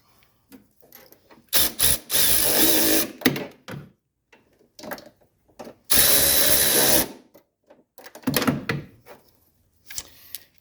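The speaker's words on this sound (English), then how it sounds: "we're going to put our screws back in here" Screws being driven back into a 1985 Mercedes 300SD during AC service and sway bar end link work, heard as two long loud bursts of a power driver with ratcheting clicks between them, separated by quieter handling noises.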